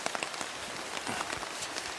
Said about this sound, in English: It's raining outside and the rain can't touch you.